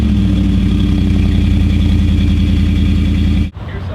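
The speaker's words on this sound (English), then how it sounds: "lock the door and then hit the start button twice," A 2013 Ford SVT Raptor pickup truck remote-started, its engine idling loud and close with a steady deep rumble that drops off abruptly near the end, followed by a quieter, different tone.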